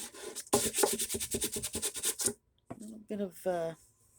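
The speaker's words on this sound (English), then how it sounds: "I just sanded that off till it's smooth" Steady rhythmic rasping strokes of sanding glue filler smooth on a wooden roof, repeated quickly for about two seconds, then a pause followed by a voice speaking.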